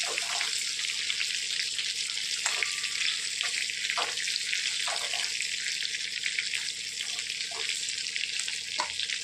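Stuffed brinjal (eggplant) sizzles steadily in a pan, a constant bright frying hiss broken every second or two by soft scraping strokes of a spatula turning the pieces.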